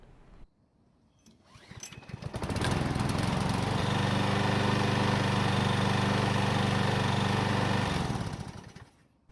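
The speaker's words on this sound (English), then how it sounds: "So rod knock is the sound the big end of the connecting rod makes while the engine is running" Troy-Bilt lawn mower engine with rod knock, starting up and then running steadily and loudly at a constant pitch for several seconds before cutting out.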